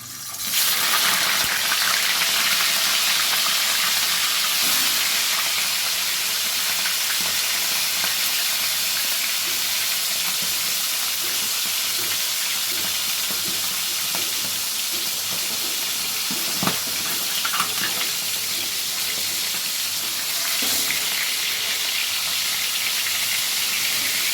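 Salted tilapia fish frying in a hot pan of oil gives a steady, loud, broadband hiss that runs unbroken for the whole stretch, with no voices over it.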